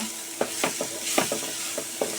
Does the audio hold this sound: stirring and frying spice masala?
yes